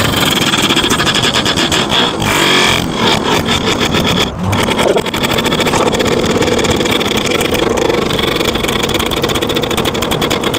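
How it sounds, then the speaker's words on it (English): Small air compressor running loud and close to power a large bottle jack, a steady droning motor hum that continues unbroken throughout. "It's not even a particularly big compressor, this is it."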